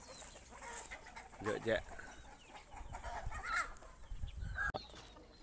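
Chickens clucking in a farmyard mixed with a rooster's calls, moderately close, under Thai conversation and general outdoor background noise.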